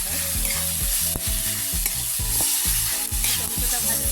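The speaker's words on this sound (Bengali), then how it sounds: "টমেটোটা ভাজা ভাজা দিয়ে রাখছে" Tomatoes fry with chili and turmeric in a pan for a bottle gourd dish. A loud, continuous sizzle is broken by regular scraping strokes of a spoon stirring, with no voices.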